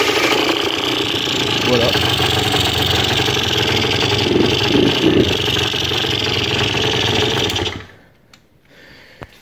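A Derbi scooter's small engine buzzes loudly and evenly at a close idle, with a few louder rises in the middle. It cuts out abruptly near the end, leaving near silence with a few faint clicks, and someone speaks briefly.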